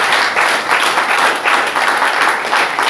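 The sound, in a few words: congregation applauding for the Lord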